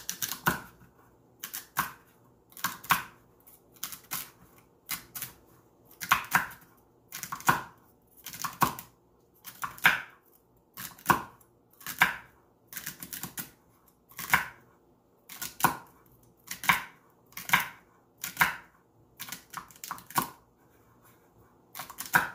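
Knife strokes dice vegetables for a pasta salad on a cutting board, about twenty crisp chopping bursts in an uneven rhythm, close and clear with no talking.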